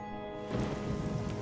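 Cartoon rain-cloud effect from an animated pony episode, a sudden wash of pattering rain that swells in after a held musical tone and continues steadily, fairly loud and close.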